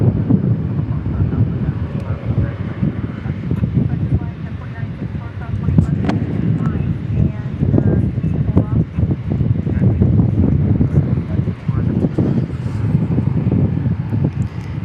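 Blustery wind buffets an outdoor microphone at an airport plane-spotting spot, a steady loud low rumble with gusty swells throughout, with talk mixed in.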